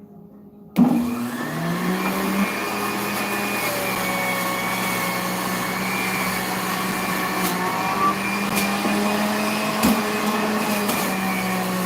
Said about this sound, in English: It sounds like a good strong motor, which is great.